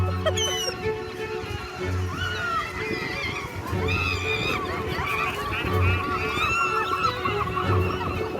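Many seagulls squawk and cry overhead in a loud, overlapping chorus, the harsh calls rising and falling continuously, with low rumbling noise beneath.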